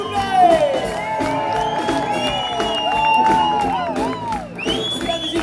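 Crowd cheering and applause for performers at a live music show in Orthez, with whoops, whistles and shouts rising over scattered clapping and voices.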